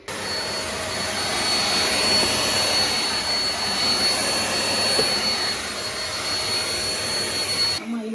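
A vacuum cleaner sucks up dust and hair indoors, running as a loud, continuous whine and roar for several seconds before cutting off abruptly.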